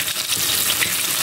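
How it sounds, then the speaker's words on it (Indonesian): Tofu and tempeh fry in hot oil with a dense, continuous crackling sizzle, loud and close, with no voices. "ini tahu sama tempe ini digoreng dulu sampai mateng"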